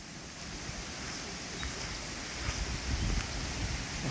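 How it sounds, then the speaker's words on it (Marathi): Gurgling stream water flowing near grazing cattle and a well in a Konkan village: a soft, continuous rushing wash, faint and steady, swelling slightly toward the end, with no voices. "खळखळणारा पाण्याचा आवाज येतोय."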